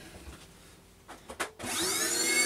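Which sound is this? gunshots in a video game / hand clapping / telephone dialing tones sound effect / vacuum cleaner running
vacuum cleaner running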